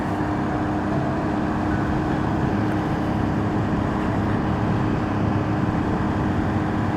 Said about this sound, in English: It sounds naturally it's a bigger engine.